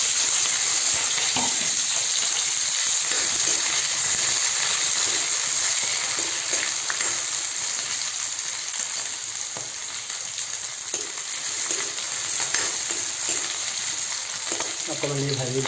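Onion and garlic fry together in a pan for pork, giving a strong, constant crackling sizzle close by, with occasional clatter of stirring and a brief bright scrape near the end.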